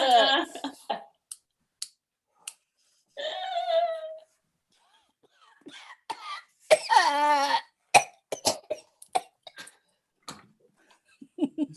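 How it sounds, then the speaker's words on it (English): Several sharp coughs and throat-clearing bursts break up quiet stretches, close by, with occasional clicks in between. "Stop your bloody coughing."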